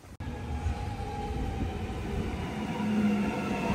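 A train rumbles past outdoors in an Australian neighbourhood, a steady, fairly loud roll of wheels and wagons with a faint tonal squeal toward the end, no voices over it.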